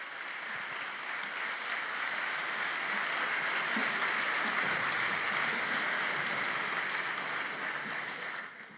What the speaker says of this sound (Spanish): El aplauso para todos ellos.